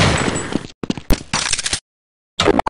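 Gunfire from a Counter-Strike match comes in loud, sharp bursts of shots separated by short silences, ending with a few quick single cracks.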